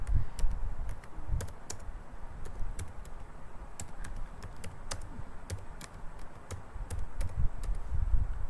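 Fingers tap on a computer keyboard while an HTML heading is typed, producing close, crisp key clicks in uneven bursts over a low background murmur, with no voices.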